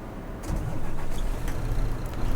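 A Fernbus coach engine starts up with a short cranking burst and settles into a steady, close diesel rumble.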